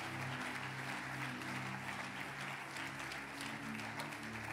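A church congregation claps in sustained, even applause that fills the room for several seconds, steady and moderately distant, with no clear talking over it.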